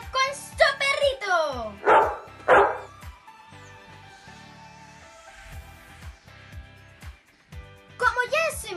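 A small dog barking in a home setting, several sharp yips and barks at the start, a couple more near the end, mixed with people talking in between.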